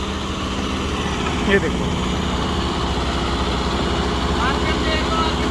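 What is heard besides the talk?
tractor engine running with rotavator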